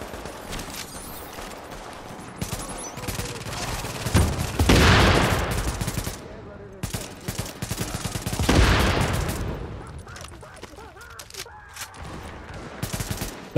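Rapid automatic gunfire in The Division, Manhattan: dense crackling bursts of shots, with two louder sustained volleys and scattered single shots between them.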